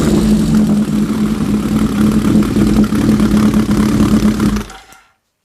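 An engine idles loudly and steadily while running on four cylinders, a constant droning hum that cuts off abruptly at the end.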